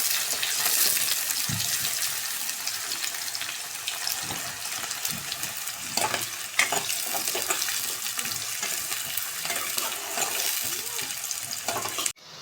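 Onions fry in oil with mustard seeds for a chicken curry, a constant bright hiss with soft crackles and stirring scrapes, steady until it cuts off abruptly near the end.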